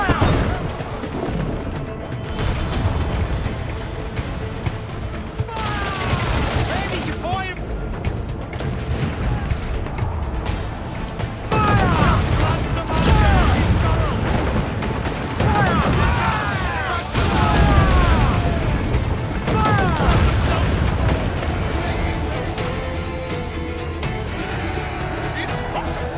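Naval cannon broadside aboard a sailing warship in Assassin's Creed, set in 1717: repeated heavy booms and crashing impacts over a constant roar of wind and sea, with shouted crew voices mixed in throughout.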